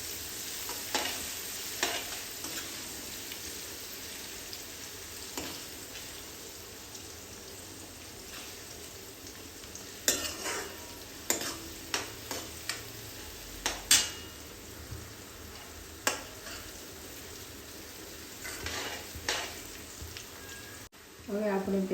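Chopped onion sautéing in a pan while preparing a Gujarati-style okra (bhindi) curry, a steady soft sizzle with irregular stirring scrapes and taps, low and close.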